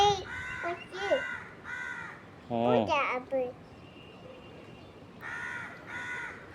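A crow caws in short repeated bursts, fairly close outdoors, with a small child babbling and vocalizing between the calls.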